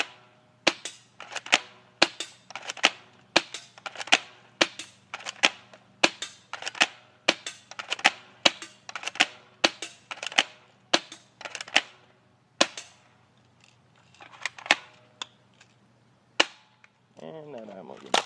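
An airsoft gun fired at targets, a long series of sharp snapping shots in irregular bursts with short gaps between them, close and loud, ending with a brief rattle of handling.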